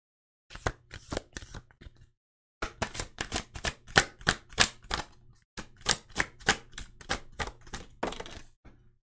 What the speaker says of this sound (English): So we're going to start off by pulling a card for this masculine.